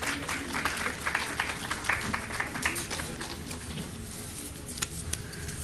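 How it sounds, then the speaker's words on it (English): An audience at a conference session applauds steadily for several seconds as a guest is called on stage, with crisp individual claps over a moderate crowd wash that thins slightly toward the end. "Please give her a big round of applause."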